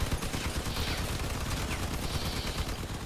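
Continuous vehicle-mounted gunfire in the car combat game Crossout, a dense rattling fusillade over rumbling engine noise that holds steady throughout with no talk.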